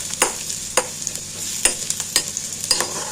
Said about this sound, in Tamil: பரண்டை நல்லா வறுத்துக்கணும்